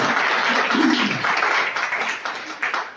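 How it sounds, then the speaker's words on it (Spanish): A church congregation applauds briefly, a dense close burst of clapping that tapers off over a few seconds. "Date un aplauso"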